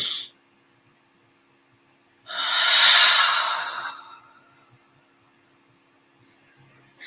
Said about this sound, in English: let's start the breathing practice of inhaling through the nose, holding it at the top,